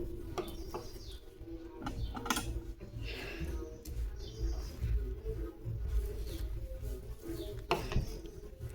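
A blouse-stitching sewing machine doing embroidery work on canvas gives quiet, intermittent mechanical clicking and ratcheting with soft gear rattle, close by and fairly faint, with scattered sharper clicks.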